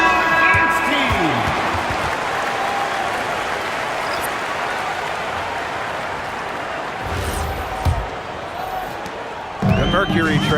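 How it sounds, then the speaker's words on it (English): A WNBA arena crowd at a Phoenix Mercury versus Atlanta Dream game applauds the dance team during a timeout, a broad, sustained wash of clapping and cheering with crowd babble, while a commentator talks over it. "please give a big round of applause"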